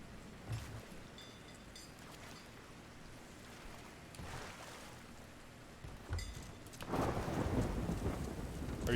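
Stormy weather in the pirate game Sea of Thieves, with steady rain hissing throughout and rolling thunder rumbling, swelling into a loud, close crash near the end.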